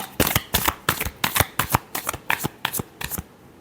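Tarot cards are shuffled by hand in quick repeated riffles, about a dozen crisp, close flutters in an even rhythm, with no talking.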